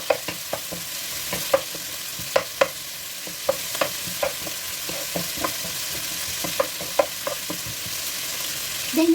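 Onions frying in a pan while pork belly stew is being cooked, giving a steady sizzle broken by regular clacking stirs from a utensil, close and fairly loud throughout.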